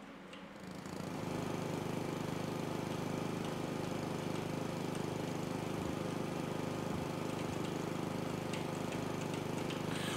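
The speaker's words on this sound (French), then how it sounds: "Comment on passe la tondeuse?" Lawn mower running in the House Flipper renovation game, a steady droning engine hum that starts after a brief quieter moment and holds evenly throughout, loud and alone with no talk.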